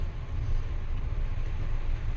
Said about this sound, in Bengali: ট্রেনের ছাদে আমরা আওয়াজ পাচ্ছি বৃষ্টি